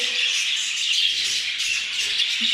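A breeding pair of caged birds chirping near their nest box in the first days of pairing, a dense, continuous stream of high, rapid twittering, close and fairly loud, with no talking.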